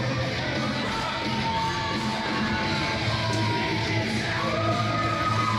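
A loud wrestling crowd yells and cheers at a match in a steady roar, with whoops and shouts rising out of the mass of voices.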